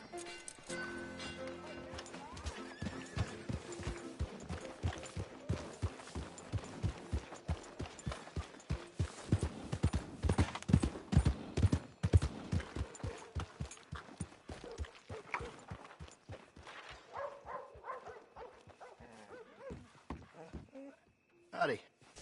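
Horse hooves clop in a quick, steady trotting rhythm for a long stretch in Red Dead Redemption 2, loud and close, slowing and fading toward the end.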